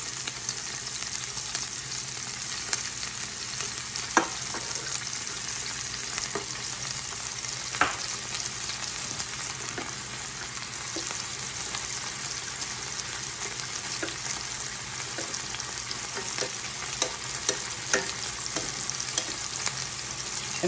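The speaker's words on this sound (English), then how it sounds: "I have a larger pan that I'm going to actually cook the fried rice in. So I'm gonna heat up some oil in here as well." Oil heating in a large pan for chicken and pineapple fried rice hisses in a steady, even sizzle, broken by a few sharp pops and crackles, with no talking.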